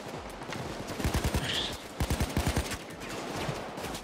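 Automatic gunfire in the heist shooter Payday 2, several quick bursts of rapid shots over a busy background of game noise, fairly close and loud.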